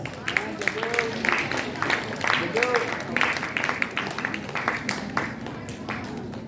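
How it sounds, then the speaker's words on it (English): Applause from a crowd, a steady patter of many hands clapping throughout with a voice speaking over it at moments. "Big round of applause, please."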